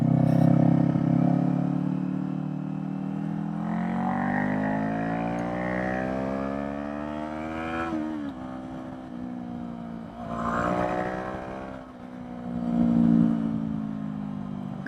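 Kawasaki Eliminator motorcycle riding a canyon road, engine droning and repeatedly revving up through gears with pitch climbing then dropping at shifts, steady and fairly close with wind noise, no talking.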